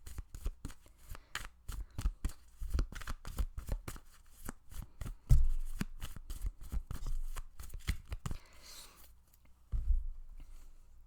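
Tarot-style cards being shuffled and drawn for a pick-a-card reading, a long run of crisp close riffling flicks and slaps in irregular bursts with no talking.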